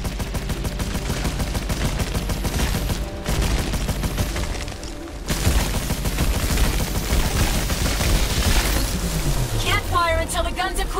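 Continuous heavy gunfire from ship guns in Scavengers Odyssey, a PlayStation VR Worlds game, a loud sustained barrage with a brief lull midway, under game voices and effects.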